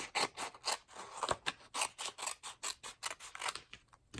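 Scissors trim cardstock backed with an adhesive sheet to size for a handmade butterfly ombre card. About fifteen crisp, close snips come in a quick, fairly even rhythm, quiet and with no talking.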